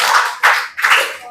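Clapping from a classroom group of students, a short burst of close, loud hand claps in a few uneven surges with no talking.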